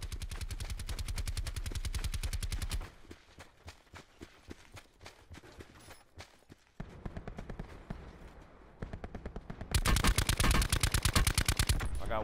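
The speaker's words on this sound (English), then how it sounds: "Someone else is shooting." Gunfire from the Black Ops 4 Blackout video game: fast automatic bursts crack out loudly, drop to scattered quieter shots, then return in a heavy rapid volley. Voices are faint or absent.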